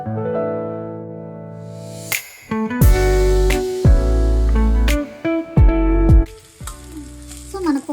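Tempering spices crackle and sizzle in hot oil in a small pan for a lentil-tamarind stew, loud bursts rising and settling with stirring, under background music.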